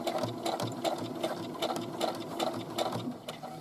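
A sewing machine stitches over a previous line on a fabric casing opening, a close, steady rapid needle chatter with a regular pulsing rhythm throughout.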